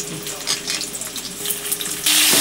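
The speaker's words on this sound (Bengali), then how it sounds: "শুধুমাত্র তেলটা গরম হলে পটলগুলো মা ভেজে নেবে।" Pointed gourd (potol) frying in hot white oil in a kadai, a steady close hiss of sizzling that swells louder and brighter near the end, with no talk.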